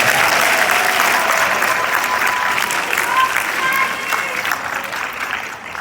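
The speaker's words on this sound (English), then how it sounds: "Give them a big round of applause again" A graduation ceremony audience gives sustained, loud applause for the graduates' families, a broad wash of many hands clapping that fades slightly toward the end, with faint voices beneath.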